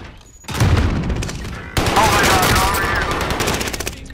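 Gunfire in a multiplayer shooter video game, loud rapid bursts of automatic fire after a brief quiet start, continuing densely to the end.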